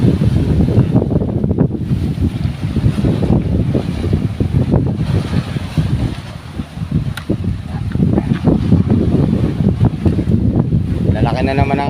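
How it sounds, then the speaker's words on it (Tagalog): Strong wind batters the microphone beside a fishing boat (bangka) on a rough sea, with large waves rolling in a constant heavy roar that dips briefly and then surges back. "Lalaki na naman ang alon."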